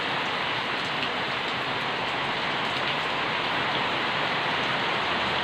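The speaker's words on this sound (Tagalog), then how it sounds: "Sabi ko na eh, uulan ito" Rain falling heavily and steadily on surfaces outdoors, a dense uniform hiss that stays constant and loud throughout with no voices.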